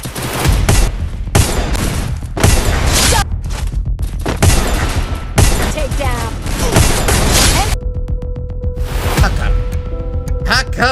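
Gunfire from the Free Fire Max mobile shooter, rapid bursts and single cracks striking in quick succession, loud and close, with short gaps between volleys and a game voice under the shots.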